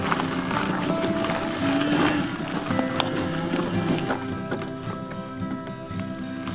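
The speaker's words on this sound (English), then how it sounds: "Oh, you're good cows." Hooves clop steadily at close range as cattle walk along a pathway toward a gate in the Oregon outback, with a little background noise.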